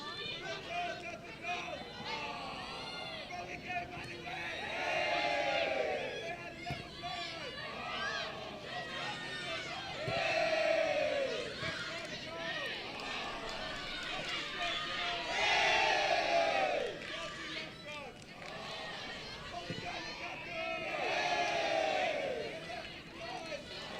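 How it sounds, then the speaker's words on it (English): Spectators at a women's college soccer match between Eastern Florida State and Daytona State sing and chant in rhythmic waves that rise and fall every few seconds, with steady crowd chatter between the swells. "enjoying listening to the crowd"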